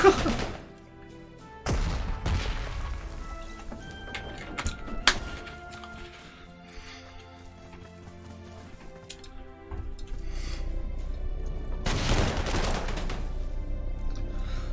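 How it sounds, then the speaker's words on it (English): Artillery fire in the World War II strategy game Panzer Corps 2, sharp booming blasts and clattering impacts scattered irregularly over a quiet background, with a denser rumble of fire near the end. "the governor's artillery is nasty"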